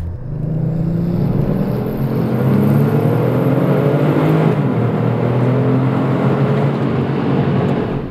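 A Kia Stinger GTS with a 3.3-liter twin-turbo V6 accelerates hard, its engine and exhaust swelling into a loud, sustained, rising roar that holds steady throughout, close up and with no voices.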